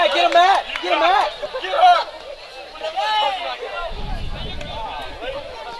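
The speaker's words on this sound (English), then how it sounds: "Crowd getting a little rowdy out there." Rowdy crowd at a high school baseball game between Friendswood and Santa Fe, with loud nearby shouting and cheering voices in bursts, followed by a low rumble of background murmur.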